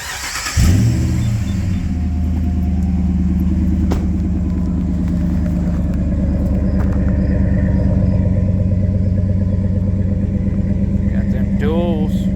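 A 2011 Ram 1500 SLT with the 5.7 Hemi V8 and dual exhaust idles steadily up close, a deep continuous rumble after a sharp start, with brief speech near the end.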